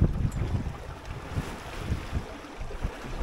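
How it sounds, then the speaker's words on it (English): Rolling waves behind a small 21-foot sailboat reefed after strong overnight winds, a steady wash of water and a low wind rumble buffeting the microphone, with soft surges and no talking. "Just a bunch of rollers coming in behind us from the strong winds we had overnight."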